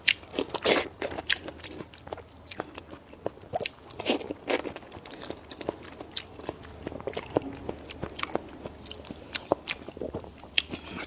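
Someone eats a large fish dipped in a spicy sauce at a rural farm meal, with close, wet crunching bites and chewing repeating irregularly throughout.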